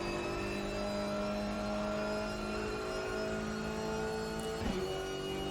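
A race car engine from a racing video game drones steadily at high revs down a long start-finish straight, loud and continuous, with a brief whoosh near the end.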